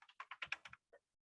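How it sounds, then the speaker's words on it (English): A zip code is typed on a computer keyboard as about nine quick, crisp keystrokes in an uneven rhythm, followed by one final tap. The keystrokes are quiet and close, with no talk. "So I'm going to type in my zip code here,"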